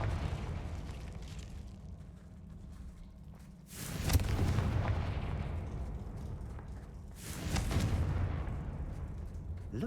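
Confringo fire spells burst in Hogwarts Legacy, and two heavy booming explosions land a few seconds apart over a continuous rumbling game background, loud and close, with no voices.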